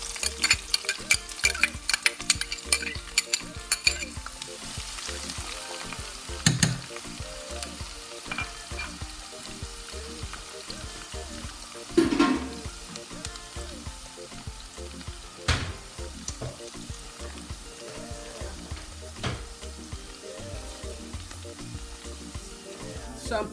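Onions sizzle and crackle in hot oil in a pan for a garden egg sauce, a steady close frying hiss broken by sharper pops and occasional stirring bursts.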